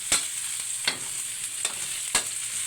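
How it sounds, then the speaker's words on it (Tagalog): Aromatics such as ginger sizzle in a hot pan, with four distinct scrapes of stirring spaced about a second apart over a continuous, bright frying hiss; no voices. "Haluin muna natin, kailangan maging aromatic ito."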